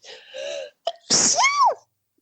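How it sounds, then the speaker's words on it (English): A single loud sneeze with a short sharp intake of breath before it, then a high voiced squeak trailing off, close to the microphone. "Oh, please edit out the sneeze."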